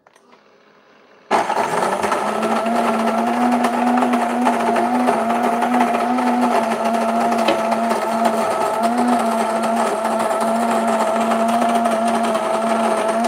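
A Breville Grind and Brew coffee grinder grinding coffee beans kicks in abruptly after a quiet second and holds a steady, loud, close whirring drone with a constant hum to the end.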